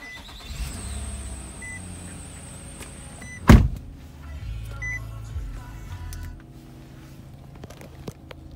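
A 2011 Nissan Murano SL starts by push button: a quiet cabin hum, a sudden loud crank and catch, then a low engine idle settling in nearby.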